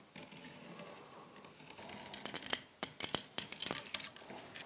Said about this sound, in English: So I'm just going to try trimming it very carefully to get the worst off.